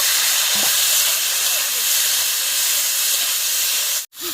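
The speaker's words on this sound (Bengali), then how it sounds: "এই যে আমি ফুলকপি দিয়ে দিচ্ছি, ফুলকপিটা ভেজে নেব।" Cauliflower frying in a pan with ginger during an outdoor picnic gives a loud, steady sizzling hiss close up, broken by a brief drop near the end.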